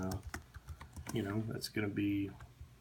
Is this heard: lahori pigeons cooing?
no